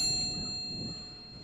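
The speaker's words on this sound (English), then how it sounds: "17 chimes that were followed by 17 names" A single memorial chime at a student walkout strikes clearly, then rings out with a pure sustained tone that slowly decays over a soft, quiet background.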